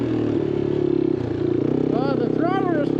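A Yamaha XT250 fuel-injected motorcycle engine runs steadily with a throttle blip, loud and close, while a person talks over it.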